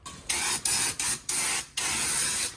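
Aerosol paint sprays in five short bursts onto dry-cracked tires of a budget Chevy rat rod, each a loud, close hiss separated by brief silences.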